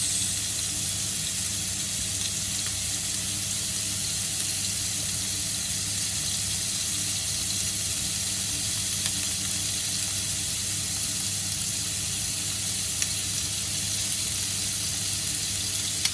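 Food sizzles steadily on a Tefal OptiGrill XL, a constant bright hiss with faint crackle holding level and close throughout, no voices.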